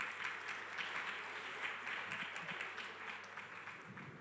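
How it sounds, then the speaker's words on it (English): A round of applause from a conference audience at an education and skills awards session, heard as steady, faint, distant clapping that holds evenly for several seconds. "please come to the front and have a round of applause."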